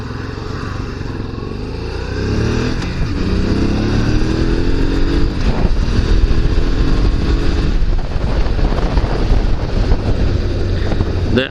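A Honda Transalp 650 motorcycle engine drones steadily throughout a test ride, with wind buffeting and a shift in engine pitch as the bike accelerates.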